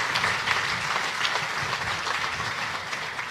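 An audience at a groundbreaking for a health care research institute claps in a dense, steady patter of applause that stays even and fairly loud, with no voices heard over it.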